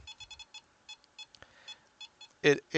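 An EMF meter set on high during a ghost hunt beeps rapidly in short bursts of even electronic tones, fairly faint and close, ending in two louder chirps.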